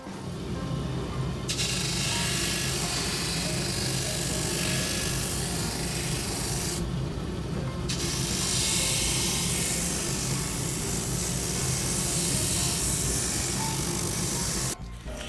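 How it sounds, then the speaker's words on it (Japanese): Grinding wheel or sander working a newly fitted heel top lift on a Getta Grip engineer boot during sole replacement, a loud steady abrasive whir running almost the whole time with two brief pauses, close and without talk. "今からここを削り込んでいきますね。"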